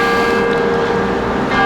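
The huge 7-tonne bourdon bell in the belfry at Dunkirk rings loud and close, one sustained deep resonant tone with a humming overtone and no voices.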